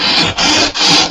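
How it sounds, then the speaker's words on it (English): A classical guitar saddle sanded on 120 grit sandpaper: three loud, close, raspy back-and-forth strokes in a steady rhythm with brief pauses between them. "So as you're doing this, you can see I'm sanding some off."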